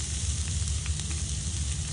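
Onion fries in oil in a pan over low-medium flame, giving a short, even hiss of sizzling with faint crackles over a low hum and no talking.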